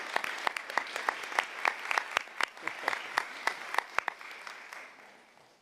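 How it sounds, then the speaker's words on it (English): Audience applause at a school board meeting honoring students for arts contributions: a room of scattered claps, fairly sparse and dry, tapering off toward the end with no talking over it. "Let us give them one more round of applause as we celebrate their outstanding contributions to the arts."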